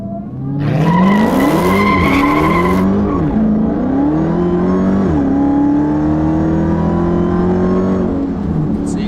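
A 2015 Dodge Charger Hellcat slides sideways, its tires squealing in loud, wavering pitches over a deep, steady engine roar that lingers close and unbroken, with no talking.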